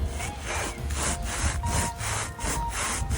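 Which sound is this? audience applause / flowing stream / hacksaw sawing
hacksaw sawing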